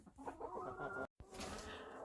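Chickens clucking inside a coop during snowy weather, several short close clucks and murmurs in quick succession, broken by a brief gap of silence, with no talk.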